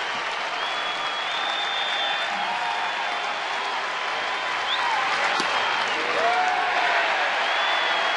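A baseball stadium crowd of about 19,620 at a Mets versus Nationals game roars in a steady, broad wash of cheering and clapping, with faint whistles and shouts rising now and then.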